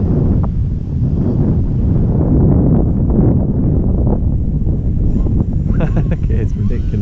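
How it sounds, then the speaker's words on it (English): Loud, buffeting wind blasts hitting the microphone in heavy low-pitched gusts during a model plane flight, with brief voices faintly audible under the roar. "Man, this is so windy."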